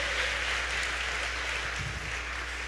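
A church congregation gives dense, steady applause that fills the whole moment at an even level.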